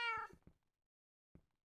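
A cat in the Minecraft video game gives one clear meow followed by a few short soft clicks and a brief later blip, all quiet against silence.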